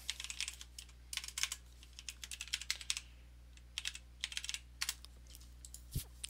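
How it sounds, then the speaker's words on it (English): Fast, irregular clacking of keys on a mechanical computer keyboard, close and fairly quiet, coming in bursts with short pauses and no talking. "Hopefully the mechanical keyboard isn't still annoying some people."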